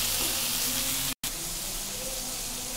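Ground coriander and cumin sautéing in hot oil in a pan for hilsa fish curry, a loud continuous sizzle with a brief dropout midway before the frying resumes steadily.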